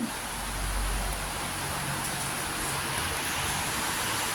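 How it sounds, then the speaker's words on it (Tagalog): Heavy rain pours down in a steady, dense hiss with no breaks, heard alone without voices. "Ayan, ang lakas ng ulan."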